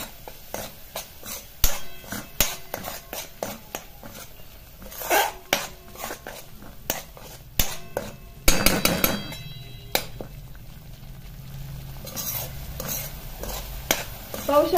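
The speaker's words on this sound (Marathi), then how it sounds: "हे कंटिन्युअसली हलवत राहायचंय, नाहीतर मग जो मसाला आहे तो लगेच खाली चिपकून बसतो" Spice masala for dhaba-style Punjabi chhole is stirred nonstop in a pan, with a quick series of sharp scrapes and clanks from the spoon against metal and a burst of busier clatter midway over a low sizzle.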